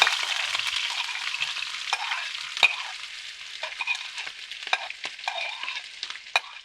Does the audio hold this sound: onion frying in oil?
yes